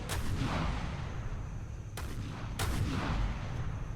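Naval guns firing in a ShipCrafter warship battle, with sharp broadband blasts near the start and two more about two seconds apart over a continuous rumbling din.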